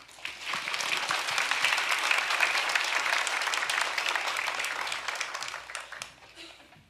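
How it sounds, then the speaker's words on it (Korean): Warm applause from a church congregation welcoming the pastor before a Sunday sermon, steady dense clapping that swells and holds for several seconds, then tapers off. "우리 목사님 따뜻한 박수로"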